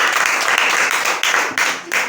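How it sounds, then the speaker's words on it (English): A classroom audience claps in a brief, loud round of applause, the clapping dense and close with a few small dips in intensity. "a round of applause for"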